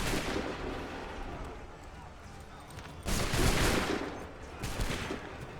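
Musket volleys crash out in the Assassin's Creed 3 video game during a colonial-era battle at Concord, loud dense rolling gunfire with a big burst midway and another near the end, while voices shout commands.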